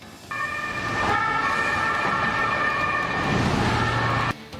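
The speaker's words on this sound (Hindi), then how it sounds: "पुलिस की सायरन बजाती गाड़ियां लगातार लोगों को चेतावनी दे रही है" Police cars sound their sirens on a Vienna street during a terror-attack lockdown, a loud steady wailing tone with traffic rumble, cutting off abruptly near the end.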